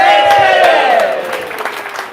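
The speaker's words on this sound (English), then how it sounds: "Should we get a cheer for Kev?" A live audience cheers for Kev at a Revelstoke snowpack talk, a loud burst of shouts and cheering that starts at full strength and slowly tapers off.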